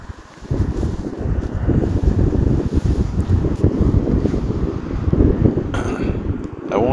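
Strong gusting wind roars and buffets the microphone at an outdoor flying session for an FMS Pitts V2 1400mm RC plane, a loud, steady rush with no voices.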